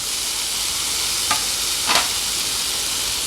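Chopped tomatoes and fried potatoes go into a hot pan for a fish-head kalia, a loud steady sizzle throughout with two sharp bursts of hissing as the pieces hit the oil, no talk.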